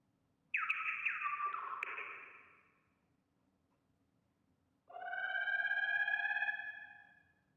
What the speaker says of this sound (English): That's a mourning hummingbird, so named because they bury their dead.